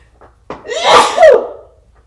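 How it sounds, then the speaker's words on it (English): A single loud sneeze up close, with a short sharp intake of breath before the explosive burst. "I'm gonna sneeze"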